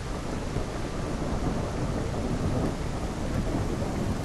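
Heavy rain pours steadily in a thunderstorm in the kayaking game Kayak VR, a dense, loud wash of falling water with low rumbling beneath and no talking.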